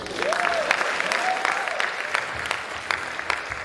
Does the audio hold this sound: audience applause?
yes